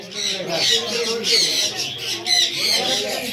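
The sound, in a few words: African grey parrot squawking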